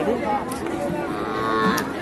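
Cattle at a busy livestock market, lowing amid a dense crowd murmur and chatter that fill the whole stretch, with a couple of sharper calls standing out briefly.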